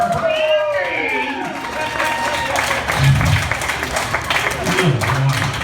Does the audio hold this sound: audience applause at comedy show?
yes